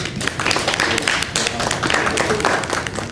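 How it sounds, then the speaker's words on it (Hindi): Steady, dense applause fills a literary gathering at a tea house celebrating poet Jaun Elia's birthday, with many hands clapping together at an even, sustained level throughout. "उनकी आज सालगिरह के मौके पर पहले भरपूर तालियां होनी चाहिए।"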